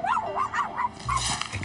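A small dog yips and barks in a quick run of high, whining bursts, close and fairly loud, over a soft musical background.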